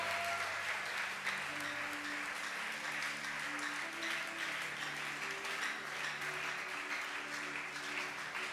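A church congregation applauds steadily and evenly the whole way through, with faint sustained tones underneath.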